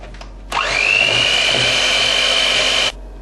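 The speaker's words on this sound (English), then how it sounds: "Now we're going to grab an electric whisk and whisk this up." An electric whisk beats a sugar mixture for a chocolate log, starting abruptly with a rising high whine, running steadily for a couple of seconds, then cutting off.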